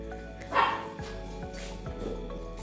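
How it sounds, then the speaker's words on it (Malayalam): Pet dog barking indoors in a home kitchen, one sharp close bark followed by a few quieter yips over a low steady background hum. "അവൾ കുരയ്ക്കും ഇങ്ങനെ"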